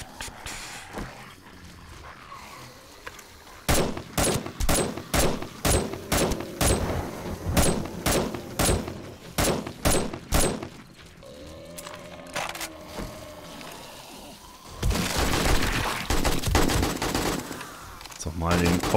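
Gunfire in the video game 7 Days To Die during a day-21 horde night: loud, sharp shots fired one after another in an uneven string, then a denser rapid burst, with a voice talking in between.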